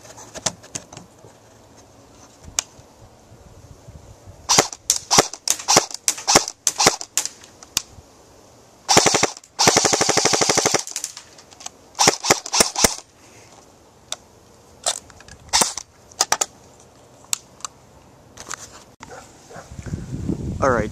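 A G&G M4 airsoft rifle with a tightbore barrel and high-torque motor fires at a bucket about 150 feet away, giving sharp single snaps and short bursts, with one longer rapid burst midway, interspersed with quiet gaps.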